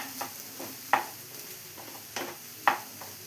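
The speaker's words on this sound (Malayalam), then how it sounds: "ക്യാബേജ് എഗ്ഗും എല്ലാം കൂടെ നന്നായി ഒന്ന് മിക്സ് ചെയ്തെടുക്കാം." Cabbage, fried egg and curry leaves for a thoran are stir-fried in a pan, with about five sharp spatula scrapes at irregular intervals over a soft, low sizzle.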